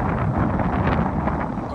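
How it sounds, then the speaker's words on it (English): Strong wind blows outdoors and buffets the microphone with a loud, continuous rumble and roar that never lets up. "Windy out here."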